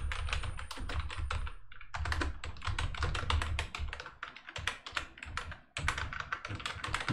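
Fingers type code on a computer keyboard in quick irregular bursts of close, crisp key clicks, broken by a few short pauses.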